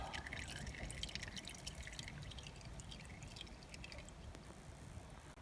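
Oil drips and trickles steadily from the drain of a John Deere 2020 tractor during an oil change, a continuous close, quiet liquid patter with no talking.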